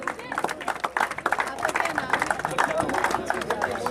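A crowd claps for the man of the match at a cricket final prize ceremony, with dense, steady applause close by, heard under someone talking over a microphone.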